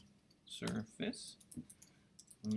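A few keystrokes on a computer keyboard and mouse clicks while searching the web, short scattered taps and clicks close by, with a person speaking between them.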